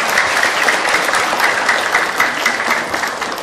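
A studio audience claps steadily and densely for a few seconds, a loud continuous wash of applause with no break.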